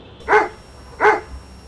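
A dog tied up by a gate barks twice, two short yips at a moderate distance over a quiet background, with no talk in between.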